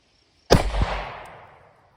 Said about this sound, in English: I'm gonna try to capture and chronograph a gel block shot for the Grizzly ammunition.